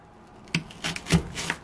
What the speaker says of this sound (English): dicing this onion